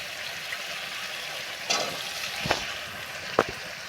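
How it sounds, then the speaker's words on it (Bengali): Boiled chickpeas and potatoes for a vegetarian ghugni sautéing in a pan, giving a steady close sizzle with a few sharp scrapes and clinks of stirring. "এবার আমি আলু দিয়ে ভালো করে কষিয়ে নেবো"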